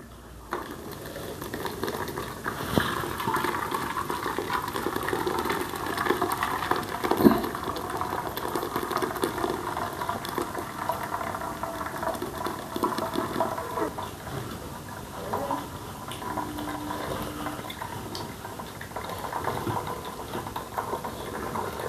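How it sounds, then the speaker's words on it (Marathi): Homemade paneer made from one and a half litres of fresh cow's milk, curdled with lemon, strained through a cloth; a steady, continuous watery rush and trickle runs throughout with no talking. "आता ते आपण फडक्यामध्ये व्यवस्थित गाळून घेऊया"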